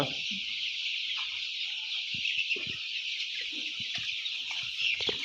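Many fifteen-day-old chicks cheep and peep continuously in a poultry shed, with scattered soft clucks underneath, steady and moderately close.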